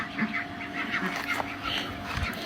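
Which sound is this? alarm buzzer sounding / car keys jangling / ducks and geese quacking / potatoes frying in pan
ducks and geese quacking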